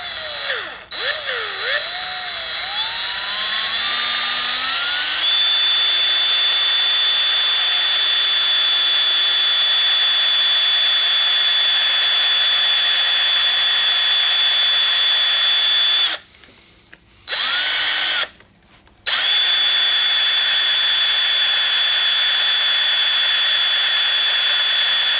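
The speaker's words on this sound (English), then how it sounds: "Come over here and drill the other one." Power drill boring out a rivet, running loud and steady for most of the stretch, with its pitch rising as it spins up, then two brief cutoffs near the end before the drilling resumes.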